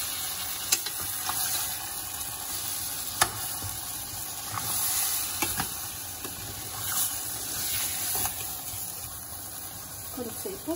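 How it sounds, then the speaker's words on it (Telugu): Masala for vegetable pulao with corn and potato fries steadily in a pan, a soft continuous sizzle broken by occasional sharp clicks of a spoon stirring against the metal. "ఇది కొంచెం పచ్చివాసన పోయే వరకు ఫ్రై చేసుకోవాలి"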